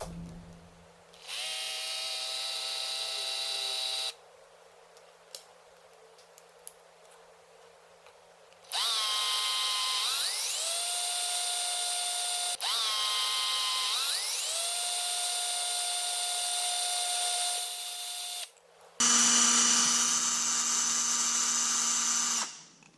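Electric power tool drilling a divot into a two-stroke powered bicycle frame for a kill switch, several loud whining bursts that ramp up and change pitch, separated by short quiet gaps.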